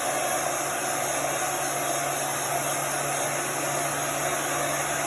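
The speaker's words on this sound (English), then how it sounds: "I'm going to dry this with the heat gun." A heat gun blows steadily while drying chalk paste ink on a stencil, giving a constant, loud whooshing hiss with a low hum that runs unbroken for the whole stretch, with no talking.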